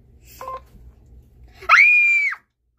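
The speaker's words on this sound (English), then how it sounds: "The phone is ringing." An electronic phone ring: a steady, loud warbling tone lasting under a second, preceded by a brief faint beeping chirp over low background hum.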